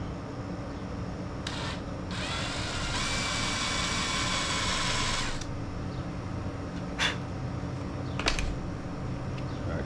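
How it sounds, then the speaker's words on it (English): A power drill whirs loudly in a sustained burst, with shorter bursts and clicks before and after, against a steady background hum, during repair of a vintage leaf blower. "And I'll use a drill to make sure it's"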